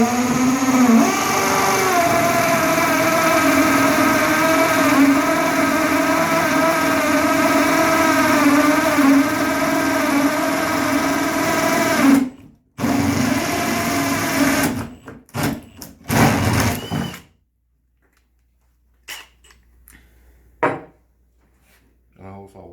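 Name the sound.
drill boring a hole in wood for a birdhouse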